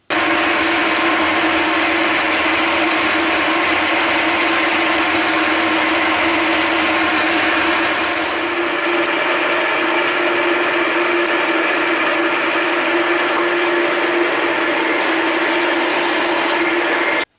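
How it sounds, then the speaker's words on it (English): A loud, continuous whine of a power drill boring holes in a table support for a Deckel machine, steady pitch throughout, briefly shifting tone midway before running on. "let's drill 2 holes"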